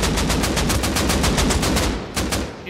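Rapid automatic AK rifle fire in a video game, a loud close burst of evenly spaced shots, a brief pause, then a few more rounds.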